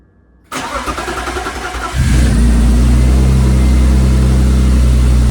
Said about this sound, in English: so then all that's left is to take this car on a little test drive.